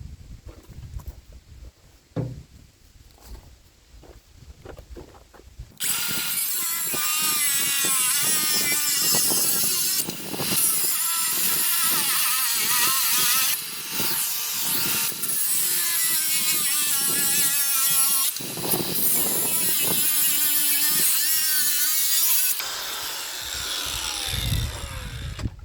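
Steel U-bolts on an old Ford Super Duty truck frame being cut with a power tool, a loud continuous grinding screech that starts after a few seconds of softer handling noise and runs with brief dips before tapering off.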